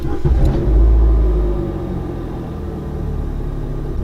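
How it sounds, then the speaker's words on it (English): A Nissan Juke's engine rumbles loudly nearby, swelling briefly as it revs, then settling into a steady idle drone. "you're gonna hear this how an engine sounds."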